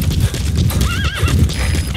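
Rapid galloping hoofbeats with a loud horse whinny rising over them midway, close and energetic, in the game Metal Gear Solid V: The Phantom Pain.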